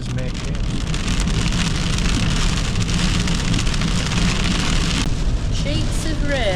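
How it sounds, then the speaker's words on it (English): Heavy sheets of rain pour steadily in a loud, dense roar at the Corran Ferry in the Scottish Highlands, hammering close by on surfaces without a break. "Sheets of rain, but I am ever hopeful."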